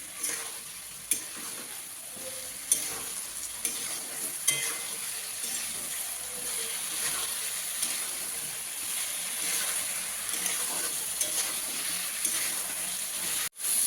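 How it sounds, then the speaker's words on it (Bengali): Giant taro being fried with spices in a pan for a home-style curry, a soft continuous sizzle with occasional faint scrapes and knocks of stirring, fairly quiet and without speech. "মশলার সাথে মান কচুটা ভালো করে একটু কষিয়ে নেবে।"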